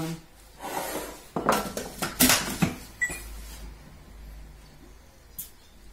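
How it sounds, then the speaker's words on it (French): Sugar is mixed into brioche dough in a bowl, making a run of close scraping and clattering knocks that rise in the middle and then fade to a quiet rustle. "Maintenant je vais mélanger avant de pétrir."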